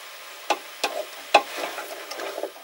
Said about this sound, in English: cook until the green peppers get a little softer